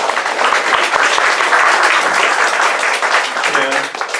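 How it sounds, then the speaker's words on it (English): Dense, steady applause from a group fills the clip, holding at an even level throughout before easing slightly near the end. "So I think we owe her an applause"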